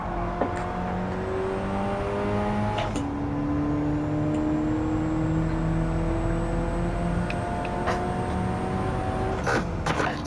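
A race car engine in Gran Turismo 7 holds full throttle, a loud, continuous whine that climbs steadily in pitch through the gears, with brief gear-shift breaks and no talk over it.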